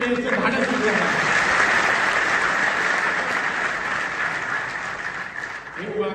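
Loud, dense clapping from a crowd at a Marathi political rally, sustained for several seconds before thinning out as a speaker's voice returns at the end.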